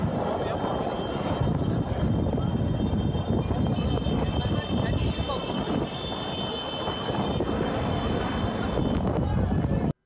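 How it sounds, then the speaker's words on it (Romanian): Firefighting helicopters fly over a spreading forest wildfire, a loud continuous engine and rotor roar filling the scene throughout. "Pompierii intervin cu elicoptere pentru a stinge flăcările care se răspândesc cu rapiditate."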